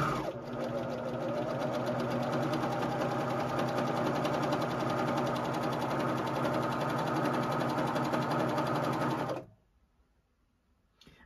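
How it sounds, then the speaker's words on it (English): A JUKI serger runs through layers of quilted table-runner fabric with a steady, fast mechanical whir and fine rhythmic ticking, close and continuous, then stops abruptly near the end. "I'm making sure all of my layers are matching up and that I will be serging through all of the layers"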